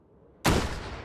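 A single sharp gunshot from the VR game Hot Dogs, Horseshoes & Hand Grenades cracks out suddenly after a quiet moment, then rings off over the following second.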